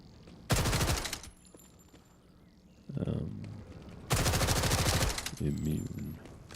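Bursts of rapid automatic gunfire from a weapon in the video game Borderlands 4, two loud sustained volleys separated by a quieter stretch with some in-game sound between them.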